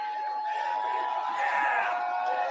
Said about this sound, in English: Crowd's hype for that for her